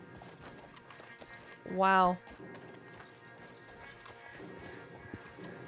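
Horse hooves in the video game Red Dead Redemption 2 clip-clop steadily and softly in the background, with a brief exclaimed word from a voice partway through.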